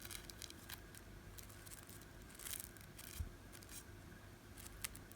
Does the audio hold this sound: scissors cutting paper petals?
yes